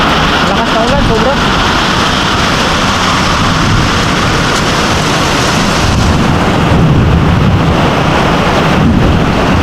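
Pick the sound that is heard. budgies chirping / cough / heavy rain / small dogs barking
heavy rain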